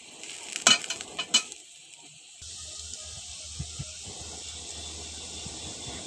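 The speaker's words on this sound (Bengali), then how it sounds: "খুন্তির সাহায্যে কিছুক্ষণ নাড়লাম" Spatula stirring a spiced raw pumpkin curry in a pan, a few sharp scrapes early on, then a low steady sizzle with occasional soft knocks and clinks.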